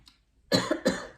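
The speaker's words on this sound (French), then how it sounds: "je crois que je vais tousser un petit moment" A woman coughs twice in close succession, each harsh burst loud and near with a brief gap between them, after a quiet pause.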